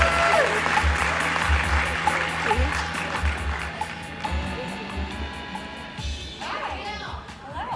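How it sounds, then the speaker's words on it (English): Audience at a Grow Tour business event in Orlando applauds to welcome speaker Jill Sager, moderate clapping from a room that thins out toward the end, with a low hum beneath. "let's give a warm round of applause to Jill On-Call Sager"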